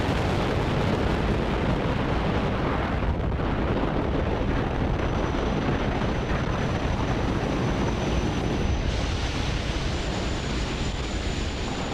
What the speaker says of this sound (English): Falcon 9 has successfully lifted off from Launch Complex 39A, carrying the Eutelsat 36D payload to orbit